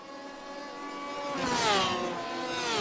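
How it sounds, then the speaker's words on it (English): Porsche RSR GTE race car at Silverstone blasting past toward Maggots, its rising engine note swelling loudly with a Doppler sweep as it closes in, then trailing off under distant track noise. "Gorgeous sound of that RSR as it blasts by us going into Maggots."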